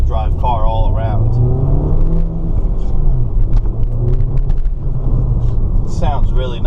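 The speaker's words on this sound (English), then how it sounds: "They really put a nice factory exhaust where it's not like, crazy loud, but it does sound really nice" A 2013 Mini Cooper S with its factory exhaust gives a low, steady rumble close by, sitting under continuous talking throughout.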